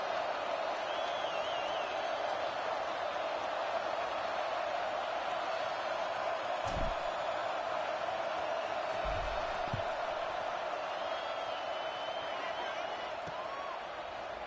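A stadium crowd in the video game College Football 26 keeps up a steady, even roar of distant murmuring and cheering, with a couple of brief dull thuds along the way.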